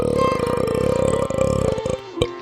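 A long, drawn-out burp lets loose for about two seconds, droning and resonant, with a brief gulp near the end. It is close and fairly loud, and no one speaks.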